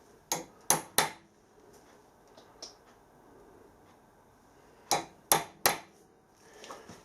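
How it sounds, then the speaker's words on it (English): Hammer blows on a centre punch mark bronze workpieces in a quiet workshop, two sharp bursts of three quick metallic taps each, separated by a few faint knocks. "So centre pop these."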